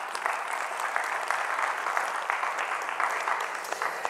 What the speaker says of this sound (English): Round of applause for Rob and Arkenstone.